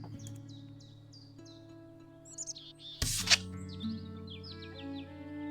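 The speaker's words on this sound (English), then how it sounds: "Hermit thrush." Hermit thrush song in a video game: short, bright chirping phrases repeat over a steady droning background, with a brief louder burst midway.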